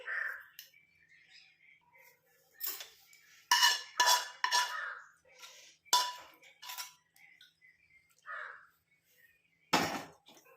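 A spoon presses and scrapes a mixture around a hot iron kadai, giving several sharp metallic clinks and scraping bursts in irregular rhythm, close and fairly loud, with no talking.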